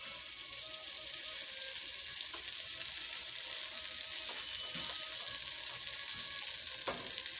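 Butter sizzles steadily in a hot pan while raspberry sauce for waffles gets started, a continuous close frying hiss with a few soft clicks and no talking.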